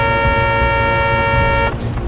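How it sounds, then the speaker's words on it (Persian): A car horn blares in a long, loud, steady honk in stalled traffic on a blocked road, then cuts off abruptly near the end, leaving quieter background noise. "بوق نزن بابا. نمیبینی راه بسته از کوری؟"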